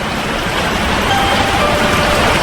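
Steady rain falling on a surface, a dense, continuous hiss of drops that stays loud and even throughout with no voices.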